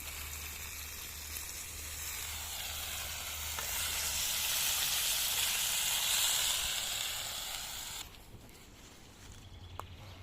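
Potatoes fry in an uncovered pan with a continuous, even hiss that swells midway, then drops sharply to a quieter sizzle near the end.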